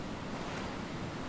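Rough ocean waves in the survival game Stranded Deep give a dense, steady wash of surf and wind noise, continuous and moderately loud with no talk.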